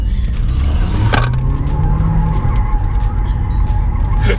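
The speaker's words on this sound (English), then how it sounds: "We get donuts in the rental car." A rental car doing donuts, its engine droning loudly throughout with a rising pitch sweep and a sharp skid-like burst near the middle, with no one speaking.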